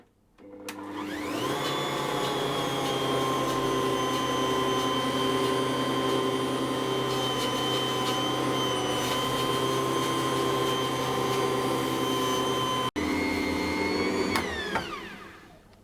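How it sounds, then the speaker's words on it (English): An Ankarsrum stand mixer kneads pretzel dough at medium speed with a loud, steady motor whine and hum, running continuously for about fourteen seconds with one brief dip before the motor winds down. "So I'm going to knead this on a medium speed until the dough is sort of fairly smooth and very stretchy."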